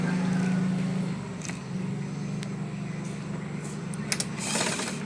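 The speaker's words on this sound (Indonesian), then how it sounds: "Nih, kita lipat kayak gini, baru kita jahit lagi." A sewing machine runs steadily while stitching fabric for a mansed, a close, continuous mechanical whir with brief pauses and light clicks near the end.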